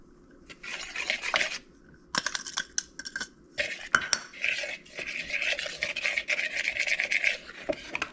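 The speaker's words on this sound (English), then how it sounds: "Gonna whisk that up a little bit." Malt vinegar is whisked in a bowl, producing quick, irregular scraping and clinking strokes of the whisk against the dish. The bursts are close and fairly quiet, separated by short pauses.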